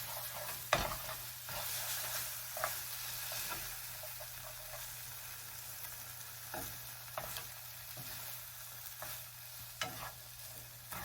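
Fried IndoMie noodles with lap cheong being stirred in a hot pan, a soft steady sizzle broken by several sharp scrapes and clacks of the utensil against the pan, with no talking.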